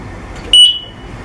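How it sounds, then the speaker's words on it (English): A game buzzer gives a single short, sharp electronic tone lasting under a quarter second, loud and clear against quiet room noise. "Kiara, let's see you press your buzzer"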